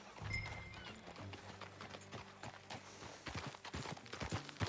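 A horse ridden in Red Dead Redemption 2 trots with rapid, rhythmic clip-clopping hoofbeats, fairly faint and close, blended with soft game ambience and a low hum.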